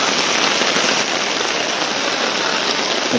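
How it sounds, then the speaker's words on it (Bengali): Heavy rain pours in a dense, steady hiss with a close, pattering texture of drops drumming on an umbrella overhead, no voices. "মুষলধারে বৃষ্টি হচ্ছে।"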